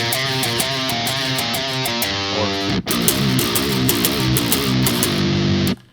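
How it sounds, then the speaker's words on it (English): A loud, close electric guitar riff, quick repeated notes on a single string, played alone with a short break midway. "It's a fun fact that this on 1 string would sound like this."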